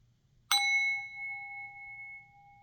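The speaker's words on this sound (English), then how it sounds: "I'm going to get this hymn out today with a sound bowl" A meditation sound bowl struck once, a bright metallic strike followed by a clear ringing tone that sustains and slowly fades, close and alone in a quiet room.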